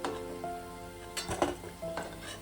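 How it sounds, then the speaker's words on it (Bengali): Biuli dal fritters (bora) sizzle in hot oil, a steady frying hiss broken by clinks and stirring scrapes of a utensil in the pan, close and fairly quiet. "বড়াগুলো আমার ভাজা হয়ে গেছে, এবার আমি তুলে নেব।"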